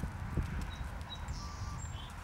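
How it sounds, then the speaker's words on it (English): Horse in a collected sitting trot, muffled hoofbeats thudding in a regular rhythm under steady background noise, with faint birdsong. "Make a circle at a collected sitting trot."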